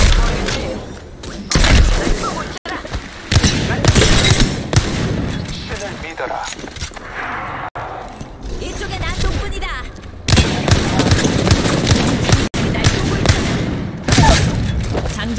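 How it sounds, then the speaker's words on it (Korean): Enemy gunfire in a shooter video game, repeated bursts of booming shots and rapid fire that come and go over about fifteen seconds, with a voice speaking Korean in places. "적들이 날 쏘고 있잖아"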